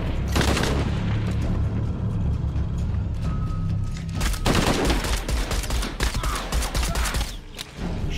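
Gunfire in Shadow of the Tomb Raider, with repeated loud shots and bursts running steadily across the scene, a sharper volley near the middle and more scattered shots toward the end.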